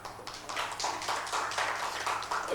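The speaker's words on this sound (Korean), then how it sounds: "갑자기 박수를 치셔가지고" A room full of people at a seminar claps steadily for a few seconds, a dense, continuous patter of applause heard from nearby.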